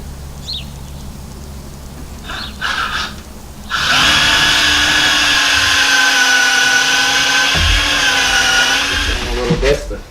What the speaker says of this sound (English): this is where I'm drilling the holes in the other ones.